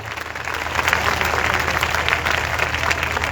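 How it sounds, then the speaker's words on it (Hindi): A worship congregation in Peshawar, Pakistan claps hard in dense, continuous applause that fills the hall, steady and loud throughout with no talking. "आइए जोरदार तालियां बजाएंगे।"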